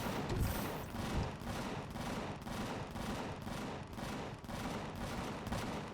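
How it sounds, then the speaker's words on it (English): Sustained rapid gunfire from the Empyrion Galactic Survival video game, a dense stream of shots in steady bursts that carries through the whole stretch with no pause. "I have no idea what they're shooting at."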